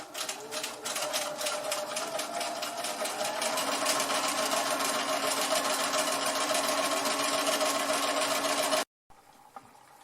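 A domestic sewing machine runs steadily, topstitching a seam close to the fabric edge, its fast even mechanical whir continuing for about nine seconds before stopping abruptly, with only faint room noise after.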